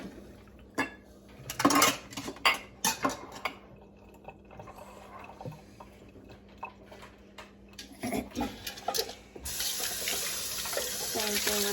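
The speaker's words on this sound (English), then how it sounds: "Just kind of rinse this one off." Juicer parts are rinsed under a running kitchen tap, with clatters and knocks of plastic pieces against the sink first, then a steady hiss of flowing water growing louder toward the end.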